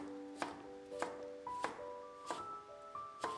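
Knife julienning a carrot on a cutting board, five crisp chopping thunks spaced roughly every half second, close up, with no talking.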